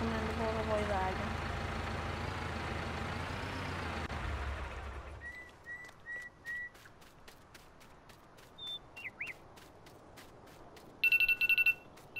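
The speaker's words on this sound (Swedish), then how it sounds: "Där ringde min klocka som sagt" A phone-style alarm rings in Farming Simulator 19, with short bursts of beeping after a truck engine rumbles and cuts out, ending in a louder trilling ring.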